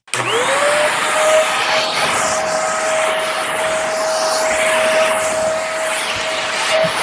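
Corded Aspiron lightweight stick vacuum cleaner switched on indoors and running steadily up close, a loud continuous motor whine with a sustained tone and rushing airflow, no talking.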